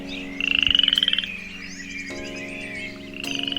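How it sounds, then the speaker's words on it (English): Frogs croak in a spring garden at dawn, with pulsing, rattling calls in short runs and a bird chirping faintly over a steady background hum. "adding to that melody are frogs"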